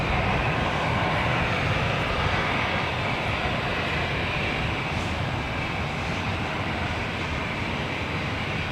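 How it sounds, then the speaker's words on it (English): Delta Airlines Airbus A320 jet at LAX bound for Austin, a continuous dense engine rumble and hiss, fairly loud and even throughout with no voices. "It's Delta Airlines flight 816 heading to Austin, Texas in this A320"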